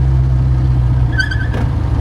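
Classic BSA A10 motorcycle engine running steadily, a close, continuous low thrum with a brief higher whine partway through.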